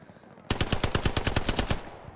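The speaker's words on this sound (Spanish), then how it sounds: "La MG me ha parecido escucharla por ahí" A machine gun in the World War II shooter Hell Let Loose fires one sustained burst of about a dozen rapid, evenly spaced shots, loud and close after a brief quiet start.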